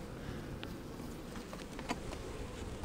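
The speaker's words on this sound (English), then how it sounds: "There's a lot of bees out foraging right now" Honeybees forage around a hive in good weather, giving a faint, steady buzz with a few brief passes as single bees fly close.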